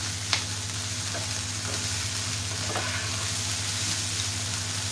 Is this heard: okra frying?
yes